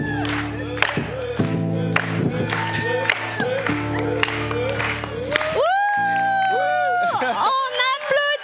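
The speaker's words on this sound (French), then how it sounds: "On applaudit Bravo!" Audience at a gospel concert applauding and cheering, with scattered whoops over sustained clapping and crowd noise, while music tones ring through and a voice carries over the clapping.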